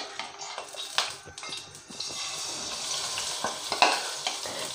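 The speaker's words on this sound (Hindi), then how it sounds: "अब हमने जो चिकन मैरिनेट किया था चिकन टिक्का मसाला में, उसको इसमें ऐड करेंगे" Chicken pieces marinated in tikka masala sizzle and fry in hot oil, with a steady crackle broken by a few scraping stirs and utensil knocks close by, no voices.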